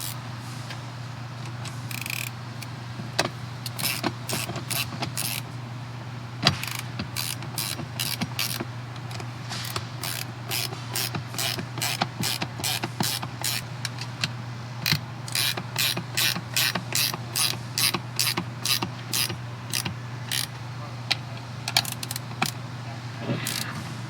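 Wrench ratcheting as bolts are snugged down on a Happijac camper swing-out: a long series of crisp, close metallic clicks in quick bursts over a steady low hum, with no talking.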